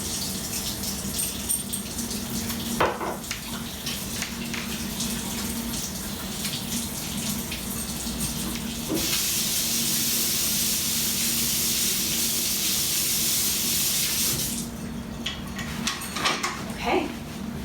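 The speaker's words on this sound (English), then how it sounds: "I'm gonna wash my hands." Tap water runs and splashes as hands are washed at a kitchen sink, with softer stretches and a louder, steady spray in the middle, close by, alongside occasional clinks and faint voices.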